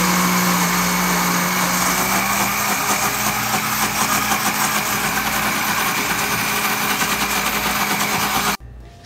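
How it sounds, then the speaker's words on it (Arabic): A kitchen blender whirring steadily while grinding sesame into homemade tahini, a loud continuous motor drone with coarse grinding texture that runs alone for about eight and a half seconds before cutting off abruptly. "رح ندور الخلاط"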